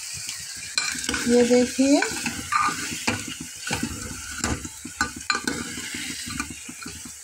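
Chickpea and potato curry being stirred in a pan, with scraping spoon strokes and bursts of sizzling frying close up, irregular clatters against the metal, and someone briefly speaking.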